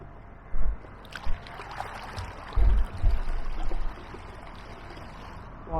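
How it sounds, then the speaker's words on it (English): Choppy, blowy water slapping against the bow of an AquaTec Ottawa Pro kayak driven by an electric fin motor, a few irregular dull thumps and splashes over a steady washing hiss. "You can hear the chop on the front of the kayak as we're going along."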